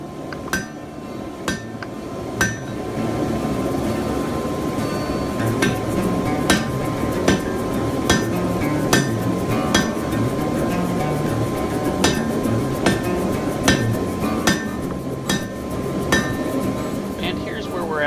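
A hammer rings down on hot steel at an anvil, forging and refining the waist of a spear socket, in a run of evenly spaced sharp metallic clangs over a constant loud roar, likely a forge blower.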